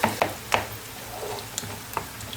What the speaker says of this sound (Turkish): Güzelce kavuruyorum.